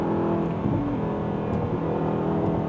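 A tuned Audi R8 with a gated manual gearbox and loud exhaust drones steadily under throttle from inside the cabin, a continuous low engine roar with slight rises in pitch and no speech.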